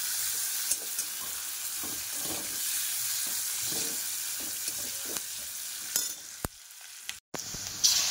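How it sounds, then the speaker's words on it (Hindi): Onions sizzle in a pan for mushroom biryani, a steady moderate frying hiss with occasional soft stirring clicks and a brief pause near the end. "एबे प्याज पूरा फ्राई हो गलानी।"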